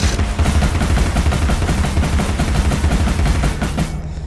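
Rapid cannon fire in Alice: Madness Returns, a fast unbroken string of loud, evenly spaced blasts repeating for about four seconds and then stopping abruptly.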